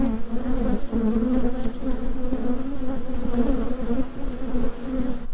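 Honeybees in a starving hive buzz in a steady, dense drone as the lid is set back on, a loud continuous hum with no voices.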